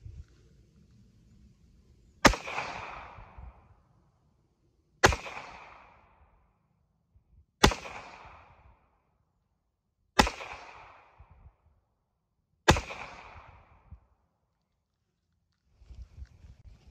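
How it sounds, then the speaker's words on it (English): Five sharp 9mm pistol shots of Winchester 147 grain Ranger T-Series rounds fired into ballistic gel, spaced evenly about two and a half seconds apart, each a loud crack with a short ringing decay, followed by faint handling noise. "We're going to be doing a 5-shot average and measuring the velocity on the impact of the gel with our Pro Chrono DLX."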